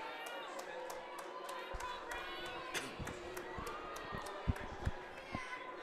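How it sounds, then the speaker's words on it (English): A race crowd cheers and shouts in the moments before the start, a busy mix of voices with scattered claps and sharp whoops, and a commentator talks over it. "You can hear the crowd starting to get into this already."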